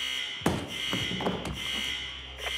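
Heat alarms in a building sound a steady, continuous electronic tone throughout, with a few sharp thuds and clatters layered over it in a tense White House hostage scene from a film.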